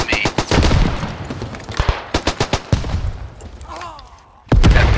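A field gun in the game Beyond The Wire fires together with rifle and machine-gun shots. There is a dense string of sharp blasts and rapid bursts, with one heavy, loud boom near the end, and voices are heard in between.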